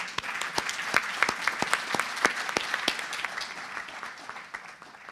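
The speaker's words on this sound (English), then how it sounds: "a round of applause for our panel" Steady applause from a crowd, many hands clapping continuously for several seconds with no voices over it.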